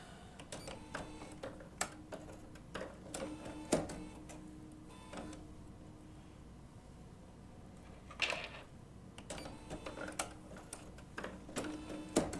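A Bernina B790 PRO sewing machine fitted with a 90 topstitch needle does a short sew-off on wool appliqué. It makes faint, quick, ticking needle strokes in uneven runs, broken by a few louder clicks and pauses.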